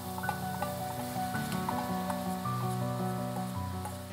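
Coconut milk goes into a hot curry pan for laksa and sets off a soft, steady sizzle that sits low beneath prominent background music.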